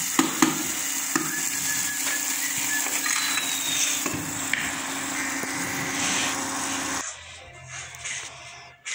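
Tomatoes fry and sizzle in a pan while being stirred, a steady close hiss with occasional clinks of a utensil, then it fades quieter near the end.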